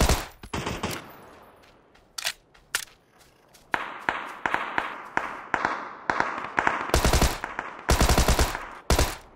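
PUBG gunfire rings out as a series of sharp single shots, spaced irregularly then quickening into loud bursts near the end, with quiet gaps between.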